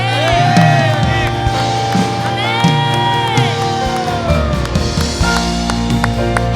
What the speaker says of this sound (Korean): 우리 주님께 함성과 박수 올려드리겠습니다